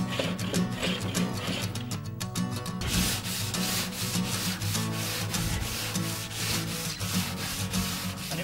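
Hand sanding of timber with sandpaper wrapped around a long straight wooden block, close rhythmic scraping strokes back and forth, steady and fairly quiet with no talk.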